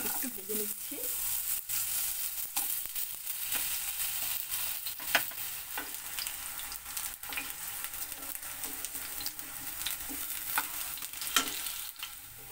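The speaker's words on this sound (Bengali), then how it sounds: "এখন এখানে তেলটা আমার গরম হয়ে গেছে। এখানে আমি আলুগুলো একটু ভেজে নিচ্ছি।" Potatoes fry in hot oil with a soft, continuous sizzle, broken by occasional clicks and scrapes of stirring, close but fairly quiet.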